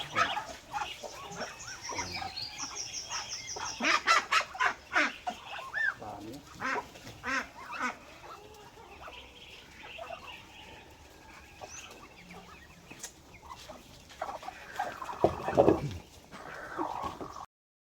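Ducks and chickens on a rural farm with coconut trees cluck, quack and squawk while being fed, a busy flock close by with overlapping calls and rustling, growing louder and more excited near the end.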